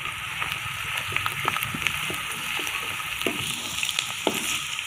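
Finely chopped green chillies and onion fry in a pan with a steady, close sizzle and scattered light crackles, no talking over it.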